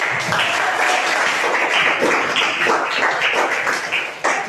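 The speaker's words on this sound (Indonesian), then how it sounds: "Berikan tepuk tangan." A classroom of students claps together, a loud, continuous patter of many hands that stays steady and fades slightly near the end.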